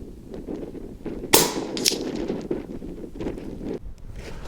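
A Brocock Bantam Sniper HR air rifle fires outdoors in gusty wind, giving one sharp crack with a second fainter snap just after, over steady wind rumble at 75 yards.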